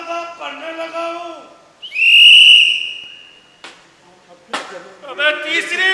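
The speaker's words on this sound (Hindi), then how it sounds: "तो पहली सीटी बज गई और दूसरी सीटी बजा रहा हूं।" During a live stage theatre performance, a whistle is blown in one loud, shrill blast lasting about a second. Voices talk before and after it, and a sharp knock is heard as well.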